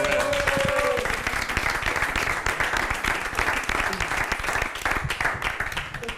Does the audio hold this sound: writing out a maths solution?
no